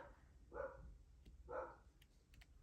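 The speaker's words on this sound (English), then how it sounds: "I have a dog that barks on occasion" A dog barks twice in a room, distant and faint, about a second apart, with a few soft clicks in between.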